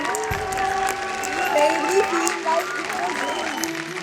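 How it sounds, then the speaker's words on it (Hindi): A standing ovation for a dance performance on an Indian TV dance show, sustained crowd clapping and cheering under a loud host voice speaking over it. "Vipul and Pankaj के लिए standing ovation from everyone"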